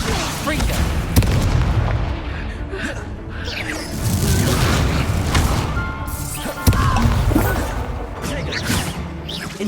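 Confringo explosive spells burst repeatedly in a wizard video game, heavy booms and crashes landing amid busy combat noise, with a voice talking over the fight.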